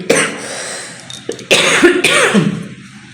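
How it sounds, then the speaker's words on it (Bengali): A person coughs several times in harsh, throaty bursts, close and fairly loud, with brief pauses between. "আমার প্রচুর কাশি করেছে"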